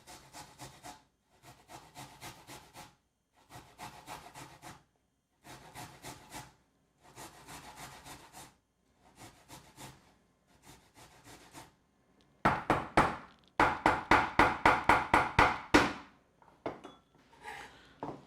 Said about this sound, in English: And then gonna grate some garlic.